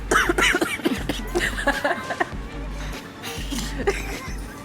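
Several rough coughs burst out in quick succession amid a busy background of chatter and shuffling, fairly close and moderately loud.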